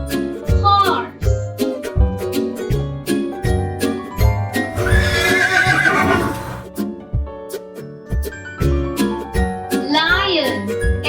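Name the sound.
horse neighing with hooves clip-clopping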